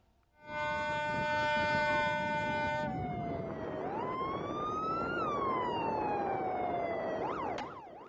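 Siren of an Indonesian fisheries patrol vessel chasing an illegal Vietnamese fishing boat in the North Natuna Sea: a loud electronic wail that switches from a high yelp to slow rising and falling sweeps, steady throughout before cutting off.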